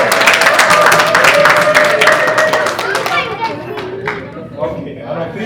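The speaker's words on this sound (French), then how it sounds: "Hey, applaudissements!" Lively clapping and cheers break out at a Congolese community New Year's party in Minnesota after a gift card prize is awarded, loud at first and then trailing off into chatter and children's voices.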